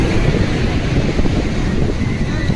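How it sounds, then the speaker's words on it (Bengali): Strong sea wind on the beach at Puri, loud continuous buffeting roar against the microphone, probably with surf in the background and no voices. "আর এই হাওয়া অসাধারণ, দারুণ লাগছে বন্ধুরা, দারুণ হাওয়া চালাচ্ছে।"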